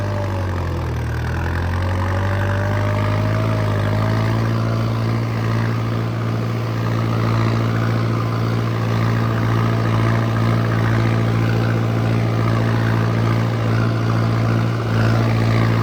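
A tractor engine idles steadily, a loud, continuous low drone with an even rumble throughout and no voices.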